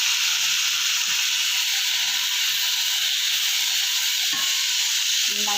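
Crushed dried red chilli frying with boiled papaya for papaya upperi, a loud, steady close hiss and sizzle throughout, with a couple of faint knocks and a brief utensil scrape near the end.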